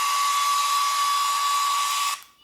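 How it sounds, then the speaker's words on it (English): A hair dryer blows loudly and steadily on long hair with a high whine, then cuts off near the end. "I'll blow dry my long hair."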